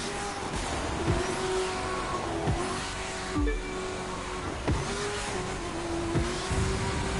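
A Corvette engine races in The Crew 2, a steady droning roar under boost, with repeated sharp thumps and surges of acceleration across the stretch.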